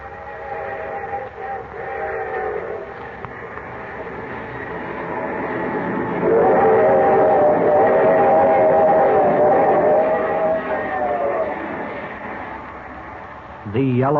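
A train rumbles steadily along with a whistle-like tone swelling in the middle, mixed with a speaking voice over the clatter.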